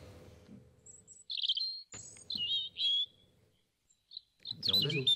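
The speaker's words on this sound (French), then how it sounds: "c'est un petit oiseau. Plutôt un petit rouge-gorge." A small European robin's song plays back as a recording: high, bright chirps and trilled phrases in short bursts with pauses between, moderately loud and close, with some low voice-like murmur at the start and end.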